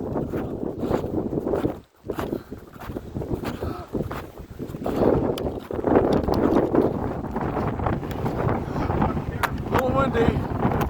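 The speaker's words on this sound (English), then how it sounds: "Strong winds." Strong wind buffets a mountain summit on Saddleback, gusting and rumbling against the microphone in uneven surges, with brief lulls between blasts.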